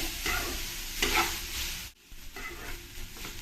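Vegetables for momo filling fry in oil in a pan, giving a steady close sizzle with stirring scrapes, a brief lull, then the hiss resumes.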